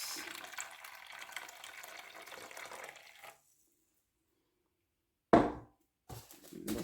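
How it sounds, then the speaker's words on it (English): Water is poured into a measuring cup in a quiet, close trickle that stops, then resumes in short splashing bursts after a pause. "I'll measure out another 200 ml of water, because that's what we will be using in the cups"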